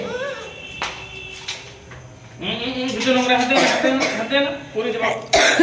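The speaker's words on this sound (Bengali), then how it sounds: "কাশি হচ্ছে।" A few sharp coughs break through a home's background clatter and family voices while people get ready to head out to a fair.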